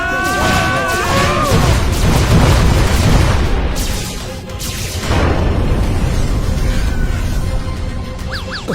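A spaceship's attack in the animated Motu Patlu adventure, with loud booming explosions and bursts of firing that roar on continuously, dip briefly midway, then swell again with scattered high zaps.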